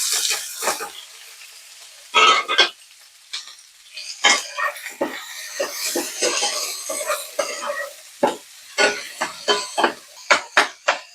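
Sliced onions go into hot oil with curry leaves, and scattered crackles and spatters follow, mixed with clinks of a utensil against the pan, close by and uneven in rhythm with no talking.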